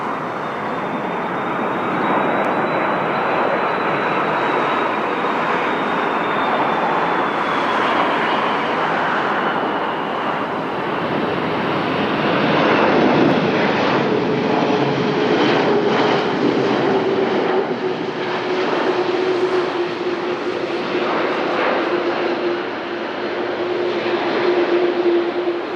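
An Angola Airlines passenger plane approaches Lisbon runway 20 with a loud, continuous engine roar and a high whine that holds steady throughout, no voices.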